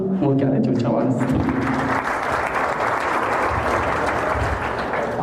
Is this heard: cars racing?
no